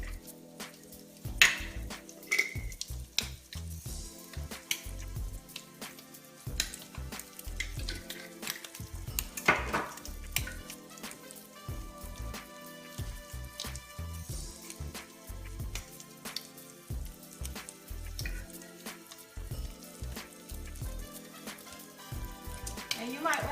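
Crab cakes sautéing in a pan make a steady close sizzle that runs throughout, with occasional clinks and scrapes of cookware and some soft talking underneath.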